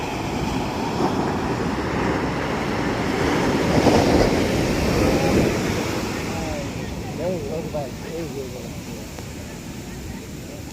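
Sea waves washing onto a sunny beach make a continuous broad rush that swells and fades, mixed with wind buffeting the microphone and brief distant voices.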